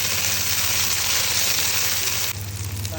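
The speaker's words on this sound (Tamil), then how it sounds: "ஸோ இப்போ வந்து வெட்டி வச்ச தக்காளி போட்டுடலாம்" Chopped tomatoes hit a pan of hot oil with sautéed green chillies and curry leaves for a fish kuzhambu, raising a loud, steady sizzle that runs throughout and shifts slightly near the end.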